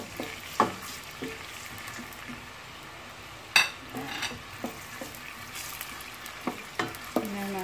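Garlic and onion sautéing in a pan give a steady sizzle and frying hiss, broken by sharp clinks and scrapes of a utensil stirring against the pan at irregular intervals, close up and without talking.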